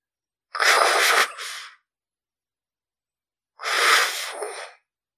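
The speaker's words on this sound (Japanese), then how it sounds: "獣の息遣いのような声が聞こえた。" A beast-like breathing sound effect for a ghost story, two separate heavy, breathy exhalations like snorts or sneezes, each about a second long, set against dead silence between them.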